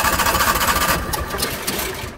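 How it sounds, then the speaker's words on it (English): An Onan gas generator spins steadily as it is cranked by the start button, giving a continuous mechanical whir with a fast rhythmic flutter that eases slightly partway through. "every time you hit the start button, the generator is going to be spinning"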